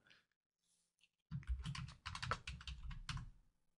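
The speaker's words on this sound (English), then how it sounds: "And I can type the password." A password for BitLocker USB drive protection is typed on a computer keyboard in a rapid, close run of clattering keystrokes lasting a couple of seconds, with a short pause midway.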